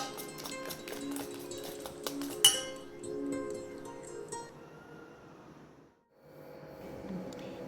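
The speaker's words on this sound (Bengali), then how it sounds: "দিয়ে এটাকে আমি ভালো করে ফেটিয়ে নেব" Egg batter for cutlets is whisked in a bowl, producing continuous quick clinking and tapping against the side, close and steady, with a brief louder clink. It fades near the end and then resumes more softly.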